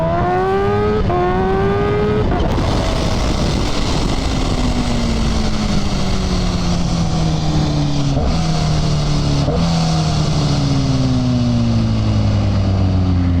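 A Kawasaki Ninja H2 or KTM 1290 Super Duke R superbike engine revs hard at full throttle, its loud, close whine sweeping up through the gears with brief shifts, then a long falling drone under steady wind roar.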